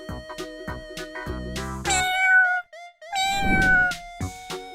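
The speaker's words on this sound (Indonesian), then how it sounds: "Kucing adalah hewan peliharaan yang sangat ramah dan lucu." Cat meows, several short mews in a row, then two longer, louder drawn-out meows, heard clearly and close with no talking.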